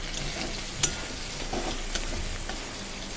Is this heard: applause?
no